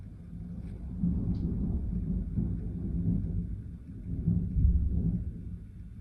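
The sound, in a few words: thunder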